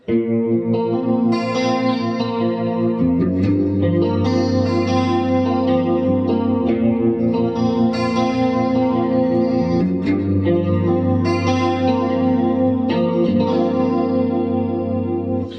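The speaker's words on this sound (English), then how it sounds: "you hear the effects, the delays going left and right" Sustained electric guitar chords through an Amp1 and Boss MS-3, drenched in delay and chorus, stereo delay repeats panning left and right, echoing and shimmering continuously throughout.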